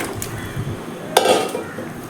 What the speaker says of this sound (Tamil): ஒரு பாத்திரம் எடுத்து வச்சுருக்கேன். அதில் இந்த சிக்கனை போட போகிறோம்.